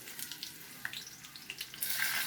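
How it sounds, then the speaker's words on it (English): Green chili dropped into hot oil with bay leaf while making egg rice, a quiet sizzle that crackles in small pops and grows into a steadier hiss near the end. "Next, drop in green chili."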